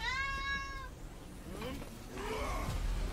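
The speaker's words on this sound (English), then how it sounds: "I've heard her meowing for a while now" A pet cat named Sega gives a clear, drawn-out meow at the start, close to the microphone, followed by someone talking softly over faint background noise.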